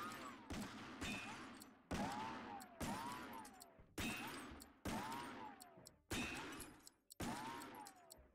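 Gunfire in the golf game What the Golf rings out as about nine sharp, evenly spaced shots, each decaying quickly with a ringing tail, loud and close with nothing else between.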